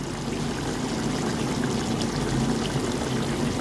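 Saffron is poured into a pot of beef biryani, making a steady, close, continuous liquid pour that lasts the whole stretch without any talking.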